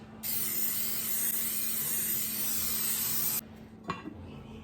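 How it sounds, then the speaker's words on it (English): A spray bottle gives one long, steady spritz of several seconds over garlic bread before baking, close and loud, then stops, followed by a faint clunk. "Give it a spritz on this side too."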